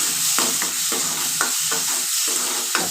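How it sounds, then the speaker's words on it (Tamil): Mustard seeds and asafoetida fry in hot oil, a steady close sizzle with repeated stirring scrapes and small pops at an even rhythm throughout. "கடுகு பெருங்காயம் இந்த எண்ணெயில் லேசாக வணக்கி வாசமாக இருக்கும்."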